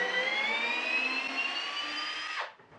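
Makita DHP481 cordless combi drill running at steady high speed, its motor whine sustained and loud, then the torque clutch engages near the end and the drive winds down abruptly to near silence.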